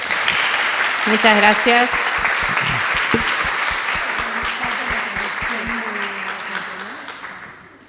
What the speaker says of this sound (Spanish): por qué no le agradecemos dando un fuerte aplauso a las dos